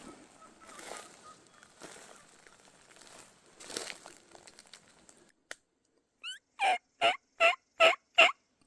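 Merriam's wild turkey gobbling in the Black Hills of Wyoming, a run of five loud, rapid gobble bursts from a tom after a stretch of quiet rustling and faint distant hen sounds.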